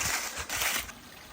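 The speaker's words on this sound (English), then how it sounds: "Can you hear the water running?" A brief wash of steady rushing water from a mountain stream running over rocks on the Appalachian Trail near Fontana, with no voices.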